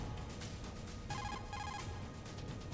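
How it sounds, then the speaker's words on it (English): Codec call ringing in Metal Gear Solid: The Twin Snakes on GameCube: a steady electronic ringing tone plays for most of the stretch, loud and sustained over dense game sound with pulsing music-like textures. "let's give everybody one last phone call"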